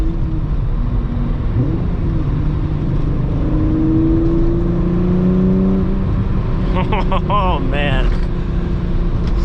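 A VW MK3 car cruises along with a steady engine and road drone heard from inside the cabin, loud and constant, while someone speaks briefly over it near the end.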